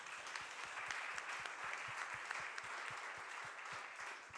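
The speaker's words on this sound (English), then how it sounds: "Let's give them a round of applause." After a panel discussion on economic opportunity and security, a small audience claps for several seconds, a soft even patter with individual claps distinct and no speech over it.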